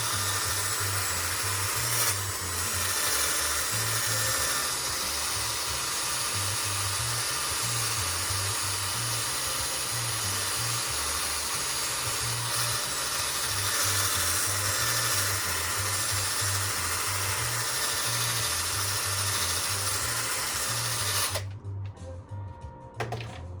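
A small, low-RPM handheld polisher buffs a guitar headstock with a steady, continuous whirring hum that pulses gently, then cuts off abruptly near the end.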